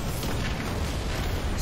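Launcher's Mega Cannon special in the fighting game DNF Duel produces a sustained, loud roaring blast with deep rumble, dense and continuous throughout.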